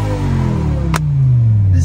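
A sports car engine, a BMW M3 G80 or M5 V10, revs up and holds a rising, throaty drone, loud and close, with a brief sharp noise burst partway through.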